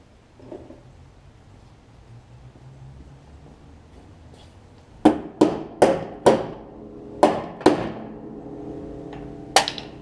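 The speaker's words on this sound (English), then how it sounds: "Let me grab a hammer." After a quiet stretch, a hammer strikes a metal part of a Troy-Bilt Pony riding mower about seven times, each blow sharp and ringing, spaced unevenly and close by.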